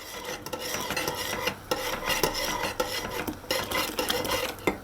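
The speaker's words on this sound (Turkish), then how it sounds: "Böyle küçük bir kapla kemik suyunu boşaltalım. Bir yandan böyle karıştırarak." A spoon scrapes and rasps against a metal pot while stirring bone broth, with irregular close scraping strokes and light clinks, no talking.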